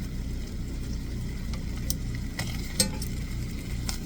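Bacon sizzles gently in a number 4 cast iron skillet, a steady soft crackle with occasional sharp utensil clinks and scrapes against the pan, no talking.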